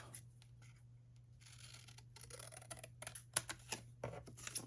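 Scissors snip through leftover pieces of craft paper in a quiet room, a few sharp crisp cuts clustering toward the end amid light paper handling and rustling.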